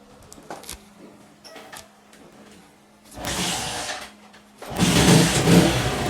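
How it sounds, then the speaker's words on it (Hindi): A motorcycle kick-started and running on cylinder gas in place of petrol gives a rough engine burst around three seconds, drops back, then catches and runs loudly and steadily near the end. "तो अभी जो है अपना मोटरसाइकिल किक स्टार्ट कर लेते हैं।"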